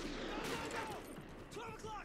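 Sniper rifle shots in the Call of Duty: Ghosts campaign, heard as a few sharp, fairly quiet cracks over a busy background of in-game noise and faint voices.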